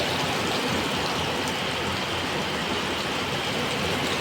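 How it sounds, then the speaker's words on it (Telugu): Heavy rain pours down in a dense, constant roar of noise, steady and loud throughout with no voices. "చూడండి ఎంత వర్షం అయితే పడుతూ ఉందో"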